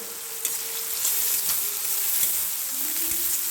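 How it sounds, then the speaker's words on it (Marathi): Vermicelli roasting in a pan for drumstick upma gives off a steady, crisp sizzle with light scraping stirs, close and fairly loud, and a faint tonal hum runs underneath. "शेवाया भाजून घेऊ आपण ह्याच्यामध्ये"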